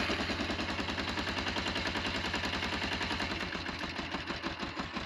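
A cold two-cylinder motorcycle engine, choke on, runs on both cylinders with a rapid, loud, uneven popping beat up close, idling steadily and alone.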